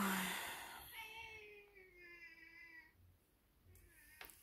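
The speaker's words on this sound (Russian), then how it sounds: "А то коты оказались закрытыми на балконе." Cats shut outside on a balcony give drawn-out, plaintive meows, a couple of faint wavering cries heard from a little distance with quiet room noise around them.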